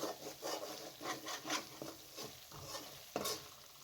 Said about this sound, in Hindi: अब मसाले को इतना भूनना है कि इसका कलर चेंज हो जाए।